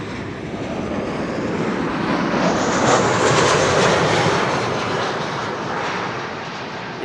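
SunExpress jet airliner in special Istanbul livery at Amsterdam Schiphol airport, engines roaring as it passes, swelling to a loud broad rush mid-pass and then easing off, alone without talk.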